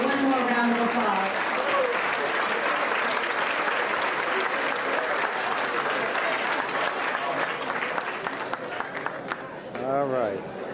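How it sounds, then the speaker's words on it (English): An audience at a fraternity chapter beautillion event applauds loudly and continuously, a dense wash of clapping with voices mixed in throughout. "One more round of applause."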